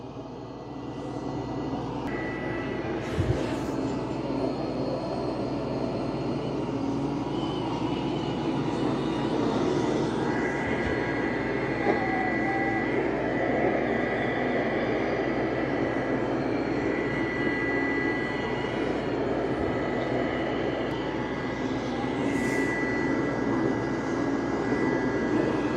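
A Roomba Plus 504 robot vacuum runs over a dirty indoor carpet, giving a steady, loud whirring hum with a broad airy roar that holds evenly throughout, with occasional faint bumps and no talking.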